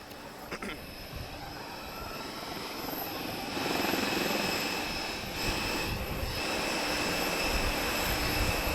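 Lynx helicopter airborne at the Portugal Air Summit airshow, a fairly faint distant engine drone with a steady whine that gradually grows fuller and louder over several seconds amid open-air noise.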